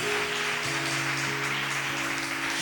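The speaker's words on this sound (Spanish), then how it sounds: "Dale un aplauso al Señor." A church congregation applauding, a dense wash of clapping held over a sustained keyboard drone, steady and fairly loud from start to end.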